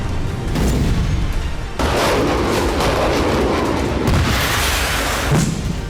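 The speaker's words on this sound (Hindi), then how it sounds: "S-300 मिसाइलें दागी गईं और यूक्रेन के खार्किव में धमाके शुरू हो गए" Wartime S-300 missile launches and explosions over Kharkiv, Ukraine, come as loud, continuous rumbling booms and blasts, with several sharp bursts standing out and no talking.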